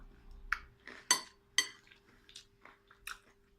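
Someone chews crunchy Lion cereal in milk at close range, with several sharp, distinct crunches spaced irregularly between quieter munching and faint spoon clinks.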